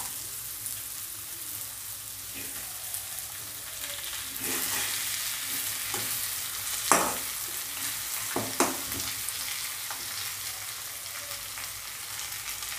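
Potatoes and a katla fish head sizzle and fry in a pan for a Bengali muri ghonto, with steady low frying hiss and a few sharp stirring scrapes and clinks near the middle.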